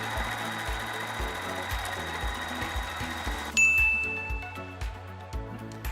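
A sewing machine closes the side seams of a custom bag with a steady, rapid needle rhythm, and a bright chime rings out partway through while the stitching carries on.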